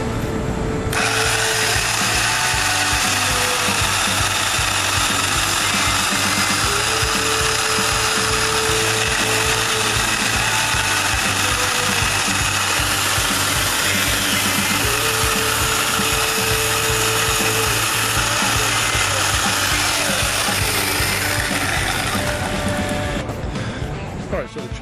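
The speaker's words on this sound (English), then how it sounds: "I'm going to go ahead and set up and go to cut this log and see how it does." A Worx 14-inch electric chainsaw cutting a log of about ten inches, a loud continuous motor whine with a steady buzzing drone and brief changes in load, stopping near the end.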